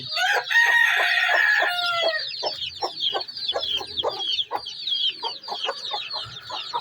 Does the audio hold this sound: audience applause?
no